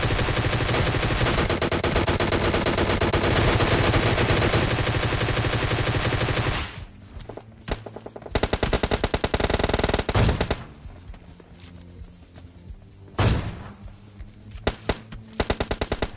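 Rapid automatic gunfire in the video game PUBG Mobile Lite rattles continuously, then breaks into scattered bursts and single shots with gaps between, loud and sharp.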